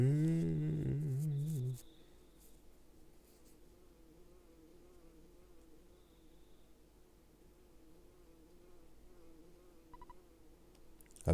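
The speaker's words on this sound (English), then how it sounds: "Do you hear a buzzing that sounds like a bee flying around?" A steady, faint insect-like buzz, like a bee flying around, hums through a quiet stretch of the Earthbound video game soundtrack after louder game music cuts off in the first two seconds.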